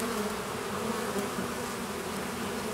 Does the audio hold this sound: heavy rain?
no